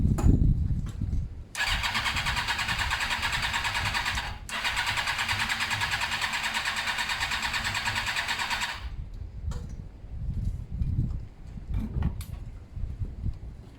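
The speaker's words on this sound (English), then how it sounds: "if you don't fire up again, I will, because there might have been some fuel left in the carbs" A Suzuki GSX-R motorcycle cranks with a steady starter whir for about seven seconds, with a brief pause, but the engine never catches before it stops, followed by faint handling noises.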